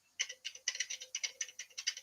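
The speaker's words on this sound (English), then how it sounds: "Oh, keyboard." Rapid keystrokes on a computer keyboard tap out an uneven but continuous rhythm of crisp, close clicks, heard alone without voices.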